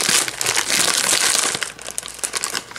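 Candy packaging is cut open with scissors, giving dense crinkling and crackling of plastic wrapper close to the mic, loud at first, then thinning into scattered rustles.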